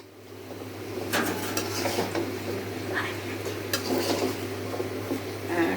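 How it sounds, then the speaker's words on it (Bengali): Meat frying in a pan as it is stirred, giving a steady background sizzle with scattered light scraping and clinking of a utensil against the pan throughout, near and fairly quiet, with no talking. "এখন নাড়াটা দিলাম, এখন একটু ভোনা হবে"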